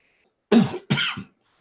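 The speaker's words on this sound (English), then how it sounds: "He's coughing." Two sharp coughs close by, the second trailing into a short rasp, in an otherwise silent space.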